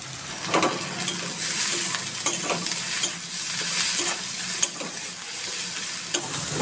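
Onions with a little salt and turmeric sizzle continuously in hot oil while being stirred, with repeated spatula scrapes and taps against the pan throughout.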